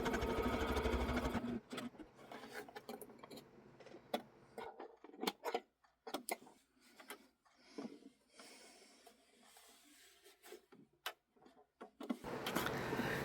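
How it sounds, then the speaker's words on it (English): A sewing machine stitches quilt-as-you-go pieces with a quarter-inch seam, a close whirring run at the start and end with scattered clicks and short handling sounds in between. "sew them on with a 1/4 inch stitch"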